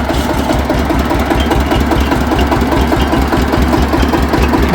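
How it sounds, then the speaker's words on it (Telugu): A well water pump engine driving a sugarcane juice cart, running with a loud, close, steady low-pitched chugging thump in rapid even rhythm, with no talk. "ఇప్పుడే ఇంజన్ అయితే స్టార్ట్ చేశాడో."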